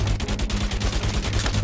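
Rapid gunfire bursts in the Freakout: Calamity TV Show video game, loud and close, fast repeated shots filling the short stretch without talk.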